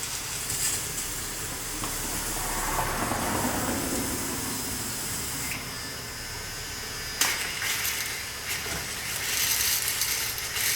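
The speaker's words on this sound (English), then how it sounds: "Now we got steam coming out." Steam hisses from the open cylinder cocks of a model steam engine as it heats up, a steady broadband rush with a sharp knock partway through, close by and without talk.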